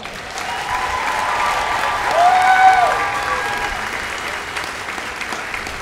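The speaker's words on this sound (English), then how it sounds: "Let's give them a round of applause." A large crowd at a military basic training graduation applauds the new airmen: dense, continuous clapping that builds slightly mid-way and holds steady, with a faint tonal sound briefly above it.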